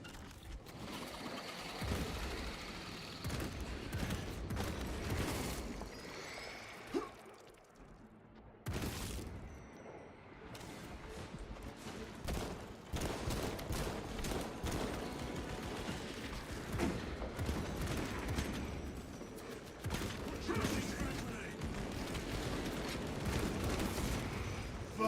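Orbital guns in Space Marine 2 pound away in a long, dense barrage of booming impacts and rattling fire, loud and continuous apart from a brief lull partway through.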